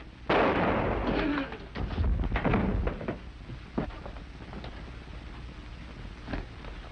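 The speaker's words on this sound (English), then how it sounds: "Halt or I'll shoot." Gunshot sound effect in an old radio drama, a loud sharp blast with a rumbling decay, followed by a few fainter pops and knocks that trail away into quieter room noise.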